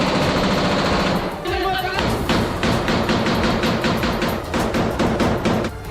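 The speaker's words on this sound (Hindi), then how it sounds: "जो वीडियो जारी किया गया उसमें दिखा कि फायरिंग के वक्त एक सैनिक रुकता तो दूसरा शुरू हो जाता" Israeli soldiers fire machine guns in rapid bursts, with one weapon taking over as another stops, a dense loud rattle of repeated shots close by, overlapping with narration.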